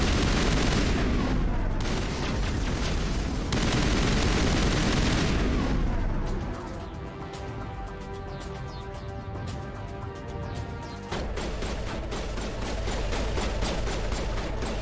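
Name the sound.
assault rifle gunfire in the video game Mass Effect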